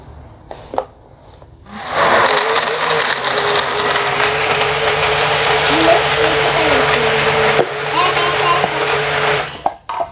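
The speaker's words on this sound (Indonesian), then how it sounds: "sekarang kita akan blender semua bahan ini" A blender kicks on suddenly and whirs loudly and steadily for several seconds, blending dragon fruit with almond milk, then cuts off.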